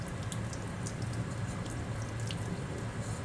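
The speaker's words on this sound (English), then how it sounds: "Rinse off my hand." Kitchen tap running as a hand is rinsed under it, a steady close splashing hiss of water into a sink with small drips and spatters, continuous for a few seconds with no talk.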